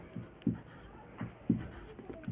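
A pen writes numbers on paper during a maths problem, giving a few rhythmic scratchy strokes with short pauses between them, close and clear with no talking.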